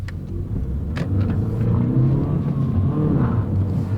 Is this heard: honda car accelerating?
yes